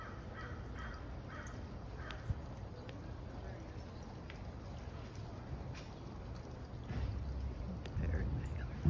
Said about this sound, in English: Eclectus parrot.